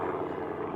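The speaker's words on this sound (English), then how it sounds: "So I got helicopters flying over again" Helicopters passing overhead, a steady loud droning rotor and engine rumble that holds throughout the brief moment with no talking.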